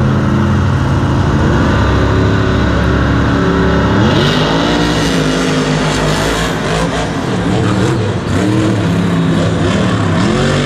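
Monster truck engines roar loudly and continuously in a stadium at a Monster Jam event at MetLife Stadium in 2019, with revs surging and falling as Grave Digger and Max D line up to race.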